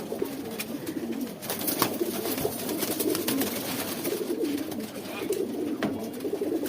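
Surma Khaki pigeons, a male and a female, coo in a steady run of low, rolling calls, close and fairly loud, over a busy background with sharp clicks and rustles.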